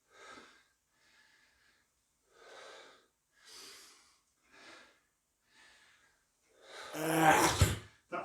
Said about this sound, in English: That's the dog.